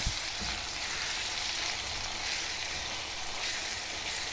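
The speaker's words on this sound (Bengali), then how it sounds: "এরপর একটু ভালোভাবে নাড়াচাড়া করে সমস্ত পানি শুকিয়ে একেবারে ভাজা ভাজা করে ফেলব।" Food frying and being stirred in a pan as the last of the water cooks off, a steady close sizzle holding evenly throughout with no voices.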